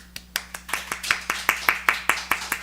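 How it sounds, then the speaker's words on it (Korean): Slow, rhythmic hand claps from a small group at a Bible study, about a dozen distinct claps at a steady, deliberate pace, fairly quiet and close. "이 섬기는 일을 하시는 분들 박수 한번 쳐줍시다"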